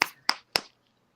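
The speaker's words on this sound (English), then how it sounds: "I, packed my cigarettes" Three sharp, evenly spaced slaps against a cigarette pack, crisp and close, as the pack is packed by hand with no talk.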